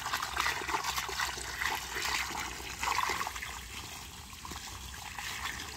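A water hose blasts soil away to dig up purple sweet potatoes, a continuous rushing, gurgling spray of water that swells and fades slightly, close by and without voices.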